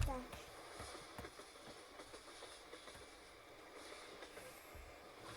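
Minecraft train ride, a faint rhythmic clatter of wheels on rails with a rolling rumble, steady throughout, near but quiet with no voices.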